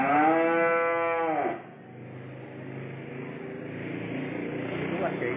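A cow moos loud and close inside a cattle barn on a farm, one long drawn-out call, followed by a lower, rougher barn ambience.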